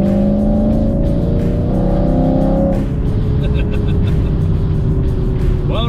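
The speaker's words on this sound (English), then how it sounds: "this is the 2017 Camaro 2SS with the Vortex supercharger" A 2017 Chevrolet Camaro 2SS with a Vortech supercharger runs close by, its engine drone steady and loud, then pitching into a strained rev midway with a rising whine near the end.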